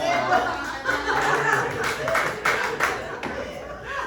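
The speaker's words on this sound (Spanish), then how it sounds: "Un aplauso" Congregation applauding during a church gathering, a moderate spread of clapping from the pews with murmured voices and light laughter under it.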